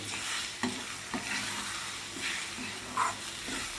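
Three beaten eggs for bhurji are mixed in a hot frying pan, with a steady sizzle broken by several soft scraping strokes of a spatula, up close with no voices.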